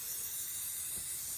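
A spray paint can sprays onto a door in a steady, close, continuous hiss with no pauses.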